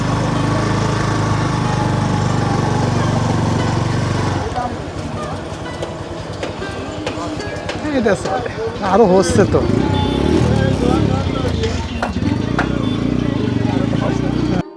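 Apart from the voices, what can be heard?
motorcycle riding on road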